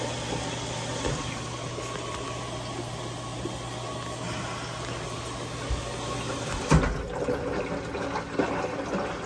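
GE front-loading washing machine filling with water during a test run after a hose leak repair, a steady rushing hiss with a low pump hum, a sharp knock near the end.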